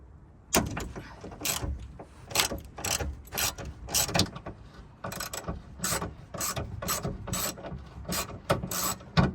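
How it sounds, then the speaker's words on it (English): Ratchet wrench loosening T40 Torx bolts on the tailgate of a Vauxhall Zafira B, a close, loud series of rapid clicking bursts in short repeated strokes, with no talking. "So the next part is loosening up the T40s."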